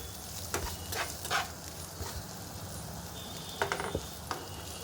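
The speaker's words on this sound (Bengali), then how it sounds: "কিছুটা রসুন, কিছুটা আদা, কিছুটা পেঁয়াজ কুচি এখানে দিয়ে দিয়েছি, দিয়ে আলতোভাবে নেড়ে নিচ্ছি" Garlic, ginger and chopped onion frying in a little oil, a quiet steady sizzle broken by a few soft clicks of gentle stirring.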